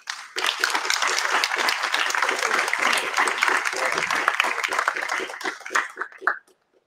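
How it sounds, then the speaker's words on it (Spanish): Loud applause welcomes mining engineer Julio Rodas, a dense wash of many clapping hands that swells, holds for several seconds, then tapers and stops abruptly. "Queremos invitar con fuertes palmas al ingeniero Julio Rodas"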